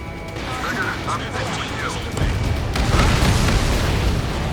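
A deep booming explosion as a target is destroyed in the Ace Combat 7 combat flight game, swelling under radio chatter and steady jet engine roar.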